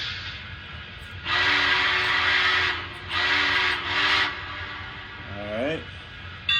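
Startup sequence from the sound system of a Chessie model steam locomotive, engine 21: loud bursts of steam hiss in a few surges, followed by a short rising whistle-like tone over a steady background hum.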